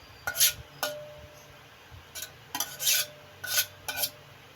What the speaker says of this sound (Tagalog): ihalo na natin ito yung ating sibuyas bawang natin